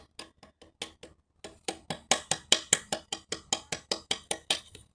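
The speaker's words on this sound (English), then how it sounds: "Just trying to be just on the edge and just some very light hammer work." A series of light, sharp hammer taps on recycled Amazonian wood, about twenty strikes in an uneven but steady rhythm, close and crisp with brief silences between.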